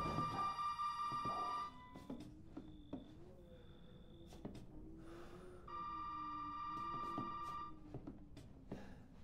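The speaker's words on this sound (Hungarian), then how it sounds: "Ja, itt bent csörög a telefon." A telephone rings inside a house in Resident Evil 7, two long electronic ring bursts with a pause between them, heard over a low ambient rumble and faint clicks.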